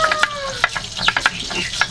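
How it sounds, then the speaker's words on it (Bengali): Fish frying in a pan for a Nabanna harvest festival meal: a sizzle under a rapid series of sharp clinks and spatters, with a faint tonal whine early on. "আমাদের নবান্নর জন্য মাছ ভাজা হচ্ছে এদিকে।"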